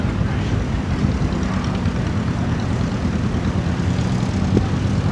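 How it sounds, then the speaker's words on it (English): A tractor engine runs at the 2021 Michigan Steam Engine Show in Mason, producing a loud, steady, low rumbling drone that continues through the whole stretch without a break. "Funny feeling that's a tractor engine."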